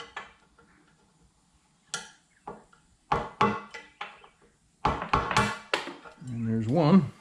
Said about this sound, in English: So I'm going to take a screwdriver and hammer here.